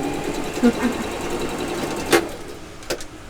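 A sewing machine hums steadily while stitching fabric, a close, even mechanical drone with a few light knocks, running under a person talking.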